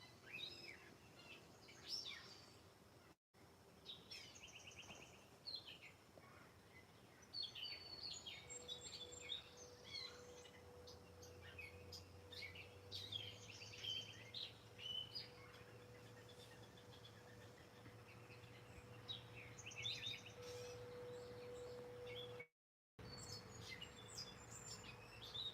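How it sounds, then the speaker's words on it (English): Songbirds chirp and trill outdoors in a steady overlapping chorus, high and fairly close, over a low hum and a faint insect drone. "Let's listen to the birds."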